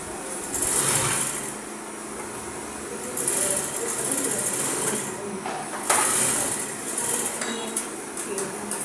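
Close by, a sewing machine stitches a trouser pocket in short runs, with bright mechanical whirring that starts and stops between pauses. A voice talks quietly beneath it.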